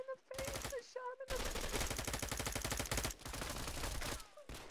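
Rapid automatic gunfire in Arma 3 during a Texas-map PvP event, a dense run of loud shots broken by short pauses, with brief speech.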